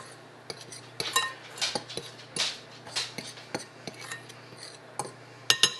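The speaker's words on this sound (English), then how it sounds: "let's mix this all together." Dry ingredients for sourdough scones being mixed in a bowl, utensil scraping and clinking against the bowl in irregular strokes, close and fairly quiet with no talking.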